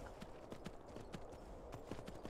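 Horse hooves clip-clop steadily in the Skyrim video game, a quiet, even rhythm of soft thuds repeating about every half second beneath a low wash of background noise.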